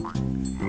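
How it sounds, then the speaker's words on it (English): A frog croaks in a short, loud, low buzzing call that dips briefly before resuming, close and alone with no speech over it. "it's a frog."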